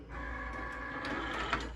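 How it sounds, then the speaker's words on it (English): A Cricut cutting machine powers on with a soft, steady mechanical hum and faint whirring motor tones, brief and close, with no voices. "I'm gonna turn on my Cricut and plug it in."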